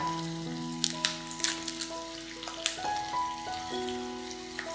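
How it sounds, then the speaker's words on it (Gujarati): Tomatoes and onions fry over a high gas flame as whole spices like bay leaf, pepper, star anise and mace are added, crackling and sizzling with scattered pops and a few clinks, no voices. "ટમેટાં અને કાંદા આપણે સોતળીએ ને ત્યારે ગેસ ફાસ્ટ રાખવાનો"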